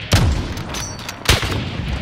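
Two loud, sharp gunshots ring out in Call of Duty Modern Warfare (2019), about a second apart, each a sudden close blast with a brief ringing tail and a low rumble of game ambience between them.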